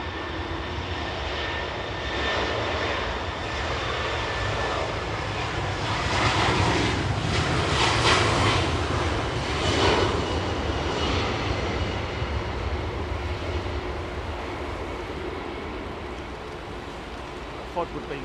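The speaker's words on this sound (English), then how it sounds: "here comes an aircraft on approach now to the northern runway" An airliner on final approach to the northern runway at London Heathrow Airport, its engine roar steady and fairly near as it passes overhead, swelling slightly in the middle and easing off again.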